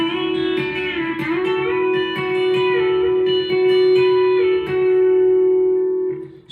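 B-bender guitar playing a bending exercise through positions one to three, sustained notes sliding up and down in pitch with a twangy, reverberant tone, picked chords ringing clearly with no voice present.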